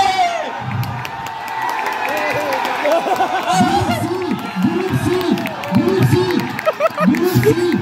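A picnic crowd cheers, shouts and claps during a rope tug of war, with loud excited voices rising in bursts over steady applause.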